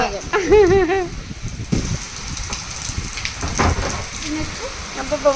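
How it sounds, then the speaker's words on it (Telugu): Steady heavy rain pours throughout, broadband and continuous, while voices speak and laugh over it near the start and again briefly later. "ఫుల్ వర్షం అమ్మా"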